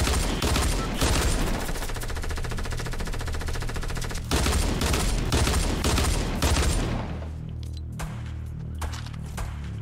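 Rapid gunfire from the video game Minecraft, a loud continuous string of shots for several seconds, a brief break, another burst, then the firing thins out into scattered shots over background game sound.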